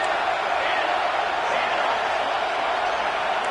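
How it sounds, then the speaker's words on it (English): Football stadium crowd cheering on a third down at a Miami versus Clemson game, a steady, dense roar of many voices that holds evenly at full volume throughout. "the crowd really getting into it"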